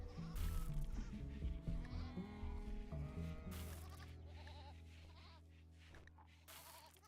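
Sheep bleat repeatedly in the RimWorld video game, several wavering calls over a low steady background hum, fairly quiet and without talk.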